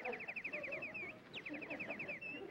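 A Canadian crested warbler sings two quick runs of repeated, pure, whistled notes, each run ending in a longer slurred whistle, fairly clear over a faint outdoor background.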